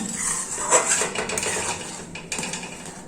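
Milk being stirred and thickened in a wok for kheer doi, a metal spoon clinking and scraping against the pan in close, steady strokes with no talk.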